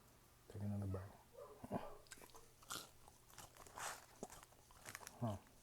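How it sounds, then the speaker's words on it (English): Close, crunchy biting and chewing on a Burger King fish sandwich and fries, irregular wet crunches and munching, with a voice speaking intermittently in between. "Take another bite."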